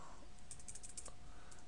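Soft, quick clicks of a computer keyboard as text is typed in at a command line, a faint burst of keystrokes over quiet background hiss.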